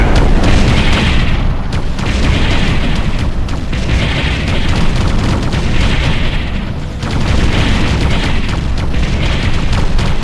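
Explosions rumble through a Ground Control real-time strategy battle as an enemy structure is destroyed, a loud sustained roar of booms and crackling blasts with several heavier bursts over about ten seconds.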